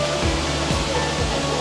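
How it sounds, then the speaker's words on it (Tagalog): Waterfall in Takachiho Gorge, a steady loud broadband rush of falling water that fills the whole moment without a break, heard up close with no voices. "Yan yung falls."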